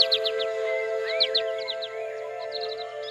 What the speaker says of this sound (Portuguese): Essas aves do paraíso estão entre as mais bonitas do mundo.